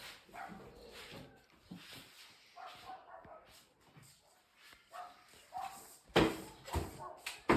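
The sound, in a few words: dog whimpering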